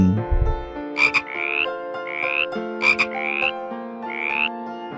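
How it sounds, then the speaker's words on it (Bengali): A frog croaks in repeated rising bursts, about four calls spread evenly across the span, loud and clear over steady background music. "ব্যাং"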